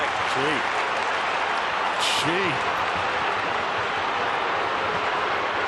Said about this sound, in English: And the crowd whipped into a frenzy again.